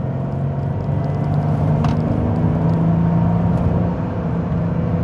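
A Renault Vel Satis engine pulls hard under full throttle, a steady loud drone and rumble from inside the cabin that holds constant for several seconds without any talk over it.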